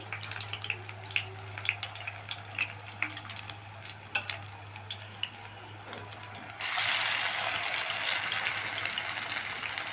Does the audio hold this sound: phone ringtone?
no